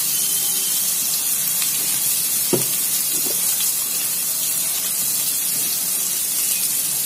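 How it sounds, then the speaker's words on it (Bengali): Pointed gourd peel paste ground with garlic and green chilli fries in hot oil with salt, turmeric and cumin, making a steady dense sizzle throughout with one brief utensil knock midway and no talking. "দেখুন তেলটা গরম হয়ে গেছে, তো এবার আমি এটাকে ভালো করে ভেজে নেব।"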